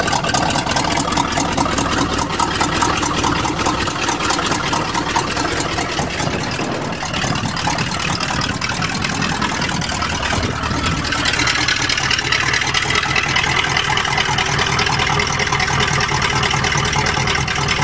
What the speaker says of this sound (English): That's the exhaust leak.